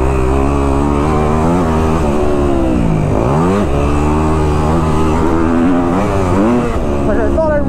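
A Kawasaki KX250F dirt bike engine drones loudly and close while being ridden, its pitch rising and falling steadily as the throttle opens and eases, with no break in the sound.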